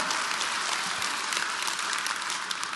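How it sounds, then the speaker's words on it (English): A church congregation claps together in a dense, steady burst of applause, loud and close, filling the room without voices. "Okay, you can clap."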